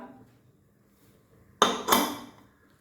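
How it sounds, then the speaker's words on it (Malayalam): A metal weight whistle is set onto a pressure cooker lid in a kitchen, giving two sharp close metallic clanks in quick succession after a near-silent pause, then fading out. "ഇനി നമുക്ക് വെയിറ്റും കൂടി ഇട്ട് കൊടുക്കാം"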